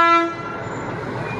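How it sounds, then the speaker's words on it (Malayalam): A Nilgiri Mountain Railway train with a newer engine sounds a short horn toot at the start, followed by a low rumbling hum of the train nearby. "ഇത് കണ്ടോ, സാധാരണ പുതിയ എഞ്ചിനാണ്."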